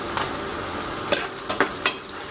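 Curry leaves hit hot oil in a pan while lemon pickle is being made, producing a steady close sizzle punctuated by a few sharp pops and utensil clinks, with no talk.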